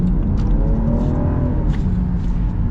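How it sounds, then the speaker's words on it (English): A Land Rover Defender First Edition accelerates from inside the cabin, its engine building steadily as a continuous, loud road and engine rumble with no voices. "and we'll see how it accelerates."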